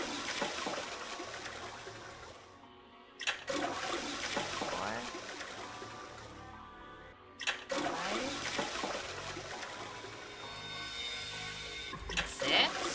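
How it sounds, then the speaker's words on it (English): A toilet flush from the video game Zero Escape: 999 rushes in as loud, broadband swirling water noise, cutting out briefly and then surging again, with a person talking over it. "I heard a loud flushing noise."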